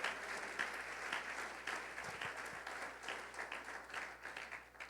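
A church congregation claps steadily together, fairly faint and distant, in a continuous round of applause with no talking.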